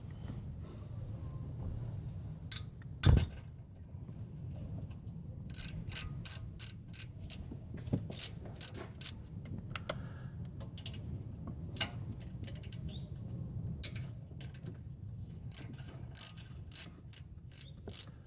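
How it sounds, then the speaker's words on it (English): A 13 mm ratchet loosens nuts on a Chevy during a check valve replacement, giving bursts of quick metallic clicking with a sharp knock early on, close and moderately loud against a quiet background. "what we're gonna do is just go ahead and start loosening the bolts"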